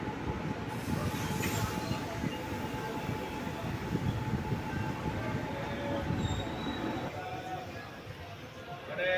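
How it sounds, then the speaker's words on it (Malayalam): The Chennai–Palakkad Superfast Express arrives at Palakkad station with a steady rumble of wheels and carriages and some faint squealing, close by, with voices in the background. "ഇത് നമ്മുടെ Chennai Palakkad super fast express നമ്മുടെ പാലക്കാട് എത്തിയിട്ടുണ്ട്"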